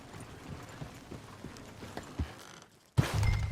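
Horse hooves clip-clop at a slow, steady walking pace in the Western open-world game Red Dead Redemption 2, moderately faint over a soft ambient bed, before a sudden louder burst of sound cuts in near the end.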